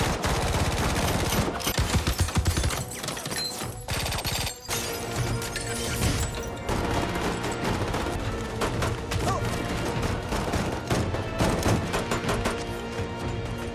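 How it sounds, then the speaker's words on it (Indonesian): Dense gunfire rattles through an action film scene as smoke and explosive grenades are thrown, loud bursts running almost continuously over a thick, busy soundtrack. "John melemparkan granat asapnya dan mereka dihujani tembakan."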